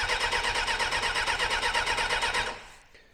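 A Kawasaki ZXR400 motorcycle engine cranks over on the starter without firing, a rapid rhythmic churning pulse that runs steadily for over two seconds and then winds down to silence, close and loud.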